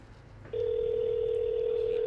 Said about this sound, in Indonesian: Coba gue telepon kali ya.